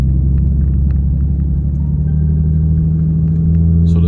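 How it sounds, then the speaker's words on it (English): A Toyota 2JZ turbo engine in a Lexus GS300 rumbles at a steady, loud idle with a deep low drone throughout, a faint rise near the end, heard close up without talking. "if you're in park and you blip the throttle, it's not gonna really respond properly"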